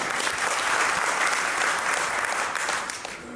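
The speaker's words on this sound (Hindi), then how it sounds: "बात अगर आपको ठीक लगे तो ताली बजाकर समर्थन देना" A convention audience at a priests' and temple servants' federation gathering claps steadily in support, dense sustained applause filling the hall before tapering off at the end.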